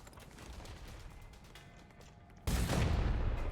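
A tiger cannon fires in the video game Gunfire Reborn, one sudden heavy blast that booms in after a stretch of quieter game ambience and keeps rumbling to the end.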